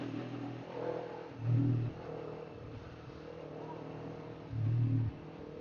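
Honda CBR250RR motorcycle engine droning at moderate level, with two short louder surges where the revs jump during clutchless quick-shifter gear changes.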